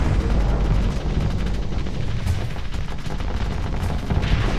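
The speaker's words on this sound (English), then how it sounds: "Machine gun's doing its thing." Machine guns on heavy fighters fire in the space combat game Starsector, a loud, rapid stream of shots blending with deep booms into a constant dense barrage, no talking.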